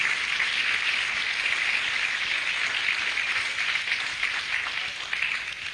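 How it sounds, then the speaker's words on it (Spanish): Church congregation giving a big round of applause to the Lord, a steady, dense wash of clapping that holds at full strength for several seconds and eases only slightly near the end. "le damos un aplauso grande al Señor"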